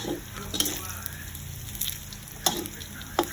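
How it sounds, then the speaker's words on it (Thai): Pork tossed and stir-fried in a hot pan for a Thai chili-and-salt pork dish: a steady close sizzle with sharp scraping and clattering knocks of stirring at intervals. "แล้วก็เอาหมูลงมาคลุกก็เหลืองนะคะ คลุกได้เลยค่ะ"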